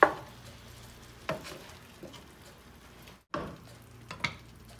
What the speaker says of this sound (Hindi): टमाटर ऐड करने के बाद हम इसको हल्का सा मिक्स करेंगे